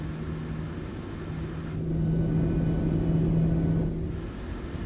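PMDG 737-800 engines in Microsoft Flight Simulator spool up briefly for taxi, a low steady rumble and hum that swells for a couple of seconds and then settles back, heard alone.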